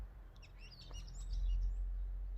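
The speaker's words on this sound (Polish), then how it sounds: "Słyszycie jak ptaki śpiewają?" Faint bird chirps and short tweets scattered over a quiet background with low wind rumble.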